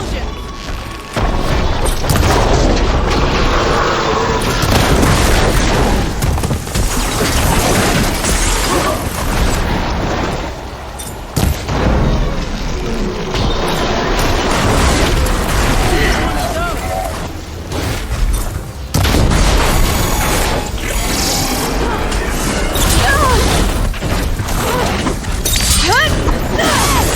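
Dense, loud booms and crashing explosions from the video game Horizon Forbidden West roll almost continuously, with shattering debris and mixed with voices and battle noise.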